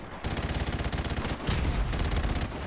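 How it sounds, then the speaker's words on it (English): Machine gun fire in a first-person shooter hardpoint match, rapid sustained bursts of rattling shots, loud and close, with a brief gap before a heavier second burst resumes. "we're gonna go on the machine gun"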